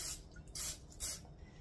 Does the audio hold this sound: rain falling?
no